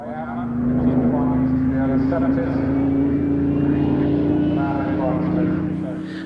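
The Merlin engine of Spitfire MH434 gives a steady, droning roar as it flies at the 1996 Duxford airshow, while a commentator talks over it.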